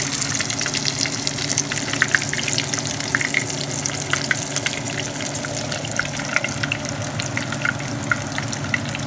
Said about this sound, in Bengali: এক এক করে সব বেগুনগুলো ছেড়ে দিলাম। আর এবার ভেজে ভেজে ওঠাবো বেগুনগুলো।